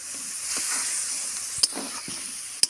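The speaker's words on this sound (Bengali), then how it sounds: "এবার ভালো করে আমি এটা কষবো।" Spices with turmeric powder and salt sizzle steadily in a hot oiled pan for a duck egg curry, a constant close hiss broken by a couple of sharp utensil clicks against the pan; no voices.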